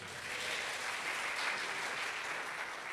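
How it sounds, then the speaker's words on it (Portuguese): A church congregation applauds together during a worship service, a steady, dense wash of many hands clapping that holds at an even level for the whole stretch with no talk over it. "dê um aplauso ao Senhor"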